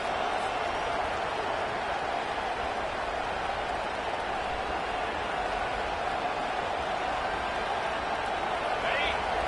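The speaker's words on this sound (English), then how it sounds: "Decibels rising as the crowd gets behind this defense on 3rd down." Stadium crowd noise swelling steadily on third down in a college football video game (LSU vs Texas), a dense continuous roar that holds level for several seconds.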